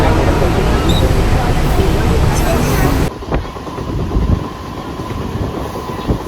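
An express train on a trip in Maharashtra, loud and rushing with a heavy roar and rattle that drops to a quieter rolling clatter with a whine and clicks, while voices speak faintly.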